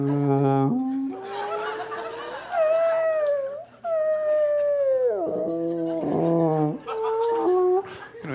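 A comedian on stage uses his voice to imitate whale noises, long loud sliding moans and wails that rise and fall in pitch, broken by short pauses.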